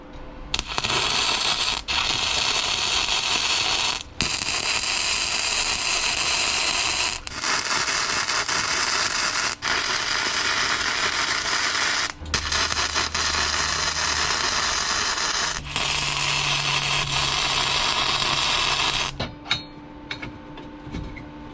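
Loud, steady arc welding on thin steel tubing of a 2008 Suzuki King Quad 400 frame, a harsh continuous crackling buzz in several long bursts separated by brief pauses, ending with quieter shop noise.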